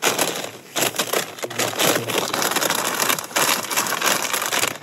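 Crisp poppadoms being crunched at a wild camp in the Lake District, a dense run of brittle cracking and crumbling bites close up, with no talk.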